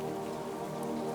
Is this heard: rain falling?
yes